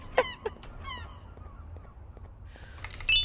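Seagull-like squawks in the game Garten of Banban: a few sharp, strident cries at the start, then quieter chirps and a louder burst of calls at the end.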